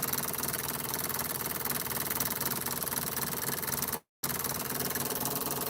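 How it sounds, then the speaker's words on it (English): A spinning magnet motor triggered by a spark gap switch, running on 12 and 24 volt batteries, giving a steady buzzing whir with a brief dropout near the end, close and continuous. "she's running good, and I'm using the spark gap switch."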